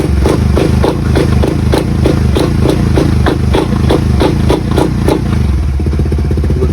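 A Pitsbike Racing pit bike engine runs loud and close after a fuel filter replacement, idling with a fast steady putter and a string of rhythmic blips and revs.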